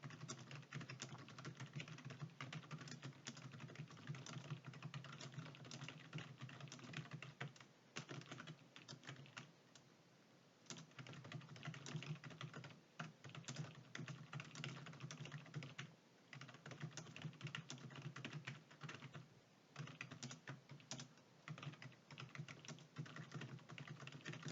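Steady, quick typing on a computer keyboard runs for about twenty-five seconds, a dense close patter of keystrokes with a few brief pauses and no talking.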